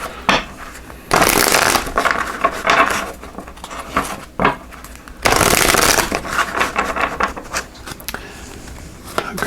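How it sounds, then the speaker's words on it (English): A deck of numerology guidance cards shuffled by hand in steady, riffling bursts with a brief pause partway through, close and fairly loud. "we're going to pull a card here from this numerology guidance cards"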